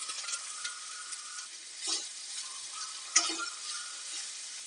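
Boiled bean pieces and grated fresh coconut with curry leaves are stirred together in a pan, a soft steady sizzle under a few scraping strokes of the spoon, with no talking.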